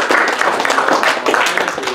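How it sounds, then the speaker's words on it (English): An audience at a critical making workshop presentation breaks into brief, close applause, a dense patter of clapping lasting a couple of seconds. "let's give them a round of applause"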